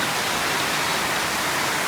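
Heavy monsoon rain pours down in a steady, dense roar of drops, loud and close, with no break and no voices over it.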